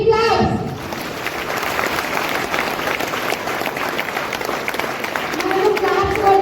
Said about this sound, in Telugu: ఒక్కసారి జోష్గా బీట్ క్లాప్స్.